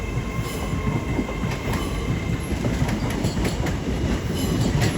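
A Class 805 train at London Euston on the West Coast Main Line, a loud continuous rumble of wheels on rails with repeated clicking joints and faint squeals, no voices.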